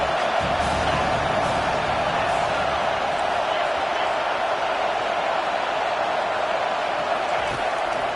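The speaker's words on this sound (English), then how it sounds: "This crowd is trying to inspire this defense to make a big red zone stop." A football stadium crowd roars steadily as the home fans make noise to push the defense for a red zone stop, a dense wall of cheering that holds for the whole stretch beneath a commentator's voice.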